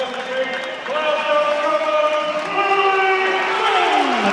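At a 2007 boxing match in Bolton, the arena crowd roars for boxer Willie Limond after his withdrawal with a broken jaw, a broad sustained cheer under a commentator's voice and sliding tonal sounds.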